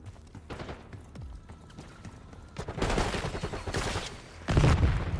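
Video game gunfire sounds in bursts of rapid shots, sparse early then denser and louder volleys toward the end, with faint game chatter beneath.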